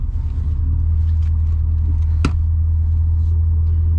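A 1988 Pontiac Firebird or 1991 Silverado pulls away, a steady, loud, low engine rumble heard from inside, with a single sharp click partway through.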